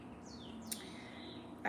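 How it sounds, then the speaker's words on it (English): Faint birds chirp outdoors, a few thin descending tweets and short calls rising from a quiet background, distant and light. "You hear birds? I've been hearing a lot of birds."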